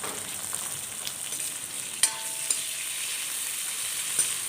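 Sliced onions and slit green chillies fry in a pan, a steady soft sizzle and crackle throughout with a few sharp clicks, no talking.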